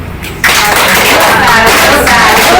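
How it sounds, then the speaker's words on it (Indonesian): An audience at a community session on stunting prevention for pregnant women bursts into clapping after a quiet start, a dense, loud patter that carries on steadily to the end. "Beri tepuk tangan"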